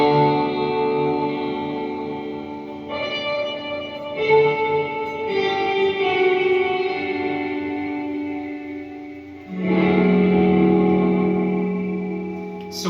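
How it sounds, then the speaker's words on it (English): An electric guitar played through reverb with the mix turned all the way up gives washed-out sustained chords that blur into a long swelling tail, with a new strummed chord near the end. "what you're hearing is the reverb"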